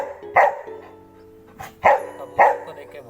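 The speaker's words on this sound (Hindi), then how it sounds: "अब उसको देख के भौंक रहा है यार" A young puppy barks three times in short, sharp yaps spaced unevenly over a few seconds, close and fairly loud, with a faint steady hum underneath.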